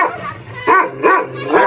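A dog gives three or four loud, close barks in quick succession, with short yelping rises between them.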